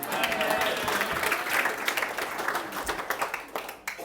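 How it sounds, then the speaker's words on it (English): Wedding guests applaud a groomsman at a reception, a dense wash of clapping that stays loud and steady for about four seconds, with a few voices calling out and chatting underneath. "How about a round of applause for the beautiful groomsman"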